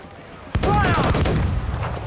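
Ship cannons fire in a naval battle in Assassin's Creed IV: Black Flag, a sudden loud boom followed by a rolling volley and crackling blasts amid shouting crew voices and sea noise.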